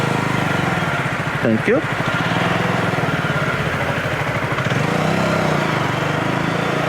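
A Zontes G125 (ZT125 G1) motorcycle engine runs at low RPM, around 2,000, with a steady continuous drone throughout. Someone talks briefly over it.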